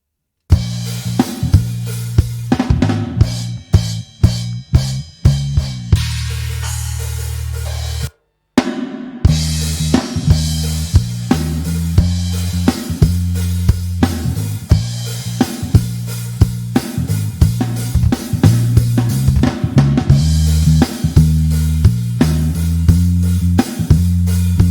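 Funk track mixing a round, warm electric bass line with a drum kit, punchy and continuous with steady rhythmic hits, a brief dropout near the middle before the groove resumes at full level.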